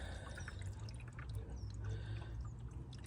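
Screen wash pouring into the washer reservoir of a new Volkswagen Beetle, a steady close liquid trickle with light splashing that runs throughout at moderate level, no talking.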